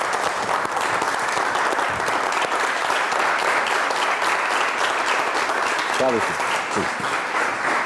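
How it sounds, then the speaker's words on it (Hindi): A studio audience on a Pakistani television talk show gives a steady, dense round of applause to welcome a guest, the clapping loud and sustained throughout without a break. "आइए अपनी तालियों के साथ इस्तकबाल करते हैं मोहम्मद कवी साहब।"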